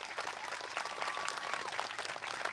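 Audience applause at a city council meeting honoring veterans, a steady wash of clapping sustained throughout at moderate level with no talk over it.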